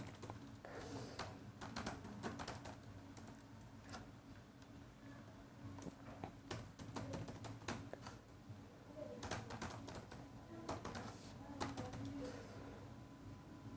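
Computer keyboard keys are tapped in irregular bursts of soft clicks while entering name and email details into a web form, faint and close, with short pauses between runs of typing.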